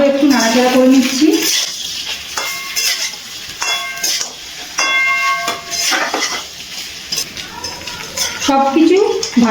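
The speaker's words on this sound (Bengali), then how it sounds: "ডাঁটা দিয়ে আবারও একটু নাড়াচাড়া করে নিচ্ছি" Fried vegetable stems and spices for shukto are stirred in a pan, with scraping and clinking of a spoon over a light sizzle, while a voice talks at the start and end.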